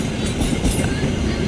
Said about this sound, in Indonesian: kereta lewat dulu